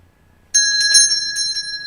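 A bright metal bell rings close and clear, struck several times in quick succession, its sustained ringing tone hanging between strikes.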